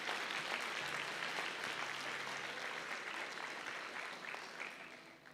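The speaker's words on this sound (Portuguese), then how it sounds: "A salva de palmas desse coroa." An audience at a church sermon breaks into a sustained round of applause, a dense, fairly quiet wash of clapping that slowly fades toward the end.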